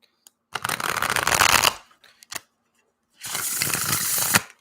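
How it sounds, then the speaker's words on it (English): Tarot cards being riffled and shuffled in two long, crisp bursts with a couple of soft taps between, close and intimate in a quiet room. "And the shuffling of the cards."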